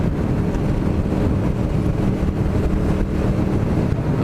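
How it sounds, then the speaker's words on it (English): A group of five sport motorcycles rides together through the Burragorang area, their engines and wind rushing in a dense, continuous roar at a steady loud level with no voices. "The 5 bikes will make more than enough noise for us."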